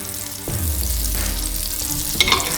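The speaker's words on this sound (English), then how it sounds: "I'm gonna add some vegetable oil. Then I'm gonna throw a piece of butter." Vegetable oil and a piece of butter hitting a hot pan, a loud close sizzle that swells right away and then crackles steadily, with a brief utensil scrape near the end.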